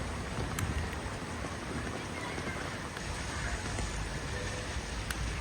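Heavy monsoon rain pours down in Mumbai as a dense, steady hiss that is fairly faint and distant, with no voices.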